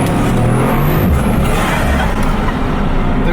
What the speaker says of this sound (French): Le bruit de la voiture, c'est une folie.